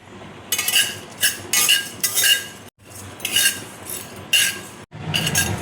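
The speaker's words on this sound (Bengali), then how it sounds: "কড়াইয়ের মধ্যে আমি শুকনো লঙ্কা দেখো দিয়ে দিচ্ছি, গোলমরিচ দেখো দিয়ে দিচ্ছি, এলাচ দিয়ে দিচ্ছি" Whole dried red chillies, black peppercorns, cardamom, cloves, cinnamon, cumin and coriander seeds dry roasting in a wok for egg curry, heard as repeated bright metallic scraping and clinking bursts of a spatula stirring, close and fairly loud, with no talk.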